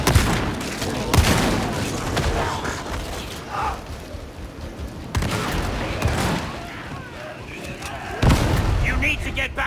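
Grenade explosions and gunfire in the Warhammer 40K Darktide video game: sharp blasts near 1, 5 and 8 seconds with rattling, clanking mechanisms between them and voices talking over the action.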